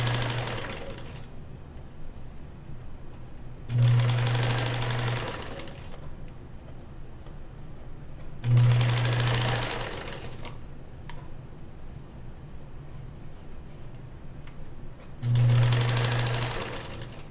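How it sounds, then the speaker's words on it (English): Sewing machine top stitching a girl's bereavement gown, three or four loud, close bursts of fast mechanical stitching separated by pauses of quieter room noise. "now all we need to do is top stitch that and turn under the back seam allowance to finish the back edges of the gown"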